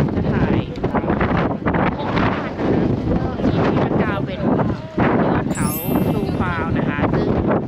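Strong wind blows across a Swiss mountain top at Grindelwald First or Jungfraujoch, buffeting the microphone in a loud, steady roar while someone talks over it.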